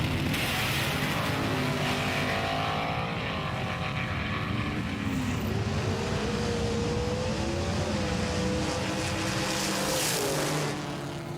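A Jaguar XJ220 race car drives in a racing battle, its engine a steady droning whine with rising and falling pitch sweeps, heard at moderate distance under constant broadband noise throughout.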